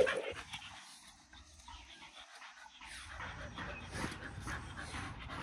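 Muddy dogs pant while playing with a ball outdoors, steady close breathing with a soft whimper, under a continuous background hiss.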